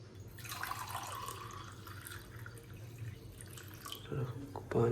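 Heated water poured out of a vessel in a home kitchen, a steady close watery splash and trickle that swells louder near the end.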